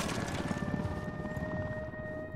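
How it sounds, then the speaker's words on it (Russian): Helicopter in the video game Ghost Recon Wildlands flying nearby, a steady droning rotor and engine noise with a constant whine running through the whole short stretch, heard alone. "Черт, что за вертолет летит?"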